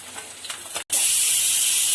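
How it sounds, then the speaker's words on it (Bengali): Goldfish fry in hot oil. A soft sizzle turns, after a brief gap, into a loud, close, sustained hiss. "মাছগুলো ভেজে নিচ্ছি গোল্ড ফিশের কারি করে নেব"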